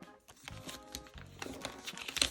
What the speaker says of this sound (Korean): 펴주고 돌려서 반대쪽도 똑같은 크기만큼 남겨주고 접어줄게요